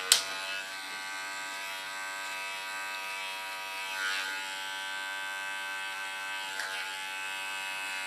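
Electric hair clipper buzzing steadily up close with a bright harmonic hum, starting with a sharp click as it is switched on and swelling briefly a couple of times as it moves through a woman's thick hair.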